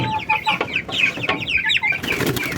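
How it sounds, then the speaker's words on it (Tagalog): Young chicks peep and cheep in a busy flurry while being given feed of rice bran and commercial feed on a small backyard farm, close and lively, high chirps overlapping throughout with no talking. "Kinain muna natin tong mga sisiw."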